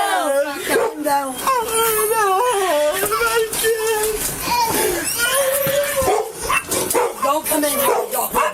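Dog inside a home barking and whining excitedly during a tense police arrest, loud and close, its howling yelps mixed with shouting and agitated talk throughout.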